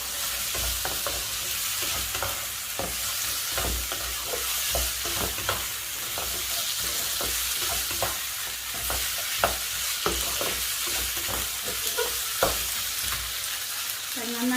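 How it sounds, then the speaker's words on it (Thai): Stink beans and shrimp paste stir-fried in oil in a home kitchen, with continuous close sizzling and frying under steady scraping and stirring of a spatula in the pan, no talk. "พอกระปิเราหอมนะคะ เราก็ใส่สตอลงไปเลยค่ะ"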